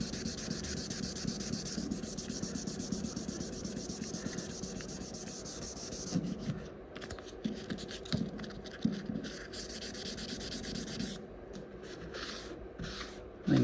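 A Peugeot 107 panel hand sanded with 600 grit sandpaper, giving a steady close rubbing hiss that later breaks into shorter back-and-forth strokes with brief pauses between them.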